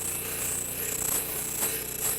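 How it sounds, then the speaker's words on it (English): Power sander flattening one side of a small wooden workshop piece that will become a toy smokestack part, a steady continuous grinding whir with a bright high hiss, held at close range throughout with no talk. "flatten one side over on the sander"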